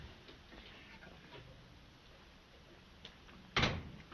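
A door opening in a 1938 comedy film scene: a quiet room, then one short, fairly loud clunk of the latch and door near the end, with a few faint ticks before it and no talk.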